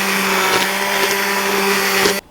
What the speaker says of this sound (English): whether you pour steaming hot soup into a regular blender and blend it up